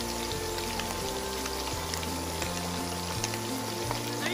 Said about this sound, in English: So we're going to fry them for a minute or so.